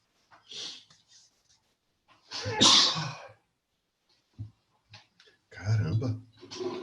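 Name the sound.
sneeze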